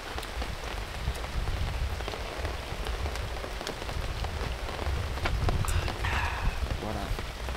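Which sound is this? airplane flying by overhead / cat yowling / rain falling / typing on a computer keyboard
rain falling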